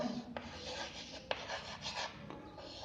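A pen scratches and rubs across paper in short, faint strokes with brief taps, steady and close, while someone writes out a maths problem in a quiet room.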